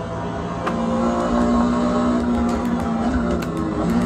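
A 1998 Porsche 911 GT1 slot car races around a track with a steady, close electric motor whine and buzzing tone, rising and falling slightly through corners, with faint clicks and ticks over the continuous drone.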